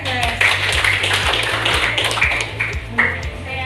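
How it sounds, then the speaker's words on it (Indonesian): Students applaud in a classroom, clapping in a quick, regular rhythm at close range while voices carry on underneath. "Tepuk tangan untuk EKS."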